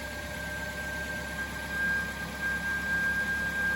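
A 2011 Suzuki SX4 with a J20B engine and a newly replaced alternator sits idling, giving a steady, even low hum with a thin constant whine running through it, close and without speech.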